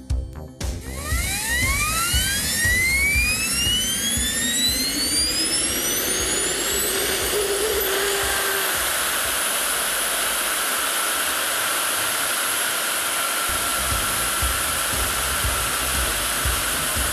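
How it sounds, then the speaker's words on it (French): A model Vampire jet aircraft roars loudly and steadily through its takeoff run at an airfield show, with a rising whine sweeping upward over the first seconds before settling into a sustained, close, broadband blast. "Au décollage ici, le Vampire de Richard Hall"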